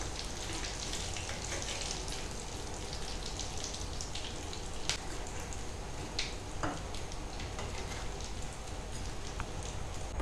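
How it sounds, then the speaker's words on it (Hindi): Potato bread bites deep frying in oil over medium heat, a steady dense crackling sizzle with scattered sharper pops, close and continuous with no talking. "इसको जो है मैं डीप फ्राई कर रही हूँ,"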